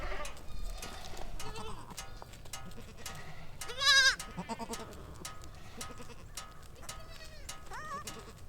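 Goats bleat back and forth across a pasture, kids separated from their mothers calling to find each other; cries come near and far, one loud close bleat standing out midway over steady outdoor ambience.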